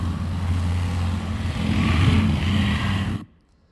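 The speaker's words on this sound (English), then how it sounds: "a motorcycle racing through the street," A synthetic effect of a motorcycle racing through a street gives a loud, close engine roar that swells slightly, then cuts off abruptly near the end.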